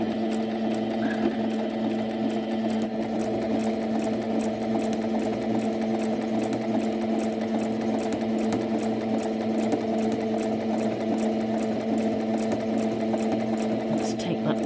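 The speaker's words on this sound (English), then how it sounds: "I'm going to sew directly on that fold line." A sewing machine stitches along the fold line of fabric bunting flags, making a steady, close mechanical whirring that runs unbroken with no talking.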